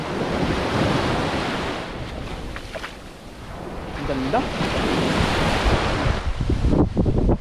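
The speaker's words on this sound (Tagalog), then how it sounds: "Medyo malakas lang yung alon ngayon" Strong ocean waves surge and break on the shore at Subic Pink Sand Beach in Matnog, Sorsogon, a steady loud roar with wind buffeting the microphone and a brief voice speaking over it.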